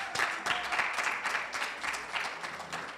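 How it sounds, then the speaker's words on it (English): Audience clapping for a graduate at a 2024 mortgage exploratory program graduation ceremony, a modest round of applause with scattered individual claps rising and falling over a few seconds. "A round of applause for Jeff."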